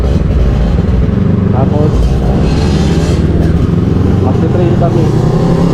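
A motorcycle engine hums and rises steadily while being ridden home, loud and continuous, with someone talking over it throughout.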